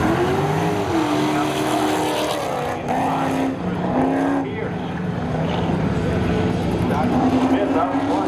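A Corvette roars down the strip in a spectator drag race at Seekonk Speedway, its engine note rising and shifting continuously beneath a commentator talking over the track.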